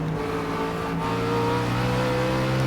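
A race car engine in the Project Cars video game at the Nürburgring holds a steady, loud, close whine, with pitch shifting slightly as it pulls through a section of track.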